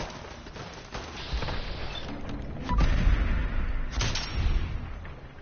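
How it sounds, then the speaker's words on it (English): Automated turret gunfire in the Fallout 4 video game, a steady stream of muffled, booming shots with heavier bursts midway, heard without speech. "Let the turret take care of you."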